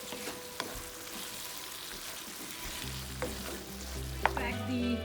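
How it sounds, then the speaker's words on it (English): Shakshuka with feta and Mexican cheese stirred in a hot pan, a gentle steady sizzle with occasional spoon clicks, close and quiet, and a low hum rising toward the end. "I'm going to toss feta cheese and other Mexican cheese and stir a little bit."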